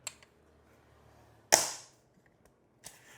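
Airsoft sniper rifle bolt cocked slowly: a sharp mechanical snap near the middle with a short ringing tail, flanked by faint clicks at the start and a brief rattle at the end, otherwise quiet.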